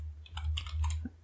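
Fingers type on a computer keyboard at close range, with a quick run of light key clicks over a steady low hum and no talk.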